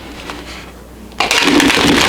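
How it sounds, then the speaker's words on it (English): Tarot cards being shuffled by hand in the traditional way, starting as soft quiet rustling and then turning into a loud, dense burst of riffling and flapping card noise for the last second. "now I'm going to try the traditional type of shuffling"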